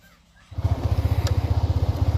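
Motorcycle engine pulling away in second gear during riding practice: quiet at first, then the engine catches into a rapid, even chugging pulse that stays loud and close.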